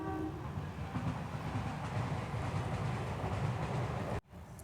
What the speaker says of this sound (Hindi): रेलवे की ट्रैक गुजरती है, तो हमेशा गाड़ी का आना जाना लगा रहता है